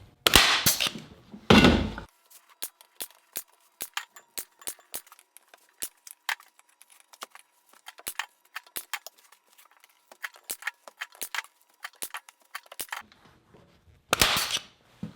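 A pneumatic staple gun drives staples into canvas stretched on a frame. Dozens of sharp, close clacks come in irregular bursts, with louder hissing air blasts at the start and end.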